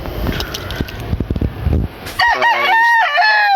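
A bloodline stag rooster crowing close by, one loud drawn-out cock-a-doodle-doo following a stretch of scuffling and clucking noises.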